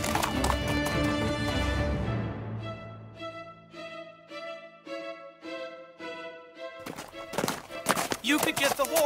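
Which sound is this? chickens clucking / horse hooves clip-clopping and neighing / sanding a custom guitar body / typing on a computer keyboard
horse hooves clip-clopping and neighing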